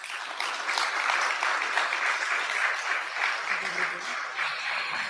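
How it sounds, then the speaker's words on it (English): Steady audience applause at an official government event launching public finance reforms in the Philippines, a dense, even wash of clapping that holds throughout at moderate loudness. "A warm round of applause."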